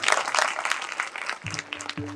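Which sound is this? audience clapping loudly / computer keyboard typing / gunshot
audience clapping loudly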